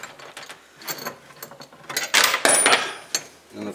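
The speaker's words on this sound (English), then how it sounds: "And of course I dropped my washer down on top of the" A metal washer drops and clatters onto the skid plate of a Polaris RZR 800 during a harness install, giving a few sharp metallic clinks and rattles amid close handling noise.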